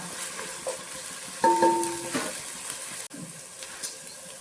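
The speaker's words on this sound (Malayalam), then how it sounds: "പച്ചമുളക്, കാപ്സിക്കം, ക്യാരറ്റ്, ഉള്ളി ഇതൊക്കെ ഞാൻ വഴറ്റി കൊടുക്കുന്നുണ്ട് കേട്ടോ." Green chili, capsicum, carrot and onion sautéing in oil, a low steady sizzle with a brief tonal ring of the utensil and light stirring scrapes, fairly quiet.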